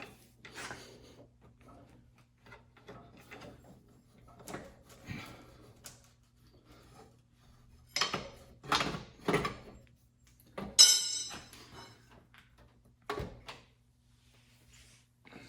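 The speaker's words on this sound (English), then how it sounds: "And now we can pry the alternator away." An alternator being pried off a Ford Mustang during an AC repair, a series of sharp scraping, rasping and knocking bursts of metal on metal, close, separated by quiet pauses, with no talking.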